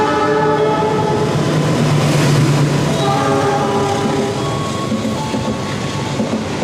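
The Gunung Jati passenger train rushes past at speed on track 3 without stopping, a steady loud roar and rumble with faint horn-like tones running through it and no voices.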